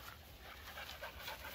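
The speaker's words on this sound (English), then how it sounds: "here's my lawn mowing helper dog." A dog that follows its owner while a lawn is mowed pants steadily outdoors, a quick, breathy rhythm of short rasping huffs held at a moderate, close level with no talking over it.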